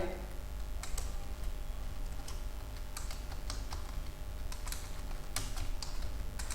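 A name being typed on a computer keyboard in MS Word: a steady run of quick, light keystrokes, close but fairly quiet, with a few sharper key taps standing out.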